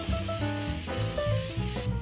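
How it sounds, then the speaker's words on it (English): A light spray of vegetable oil onto a fry pan set on the heat, heard as a steady close hiss over a background of music, then cutting off sharply near the end. "Before I add anything to my pan, I give it a light spray of vegetable oil."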